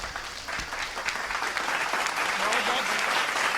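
Steady audience applause at a Hindi comic poetry gathering (hasya kavi sammelan), a dense wash of many hands clapping that swells slightly and holds loud for the whole stretch, with no talk over it.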